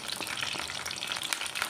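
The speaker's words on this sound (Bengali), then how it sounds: "দিয়ে এখন ভেজে নিব।" Goja sweets deep-frying in hot oil make a dense, close, continuous bubbling sizzle with tiny crackles, steady and unbroken for under two seconds.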